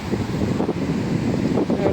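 Sea waves are driven by strong wind at a pilgrimage shore, a loud, continuous rushing wash with gusty wind buffeting the microphone and no voices.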